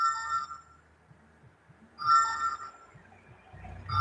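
A phone rings in short repeated electronic bursts, two clear rings separated by quiet, with low rumbling handling noise underneath and no talk.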